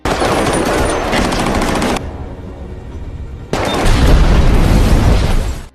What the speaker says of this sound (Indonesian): ia malah ketahuan dan sempat terjadi tembak-tembakan